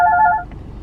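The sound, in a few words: phone ringing with an incoming call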